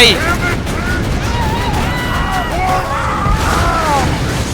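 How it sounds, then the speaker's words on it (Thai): A transfusion grenade bursting in the shooter game Borderlands 2, a loud dense boom-and-crackle wash with warbling energy tones sweeping through it, under continuous battle noise while a player talks excitedly. "เฮ้ยระเบิดดูดเลือดนี่ว่ะไป"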